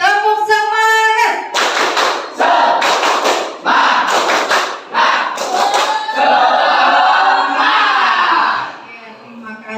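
Schoolroom class performing a rhythmic spirit clap, loud group clapping in patterned bursts with shouted chant-like voices mixed in, close and energetic throughout.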